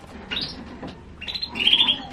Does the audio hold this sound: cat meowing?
no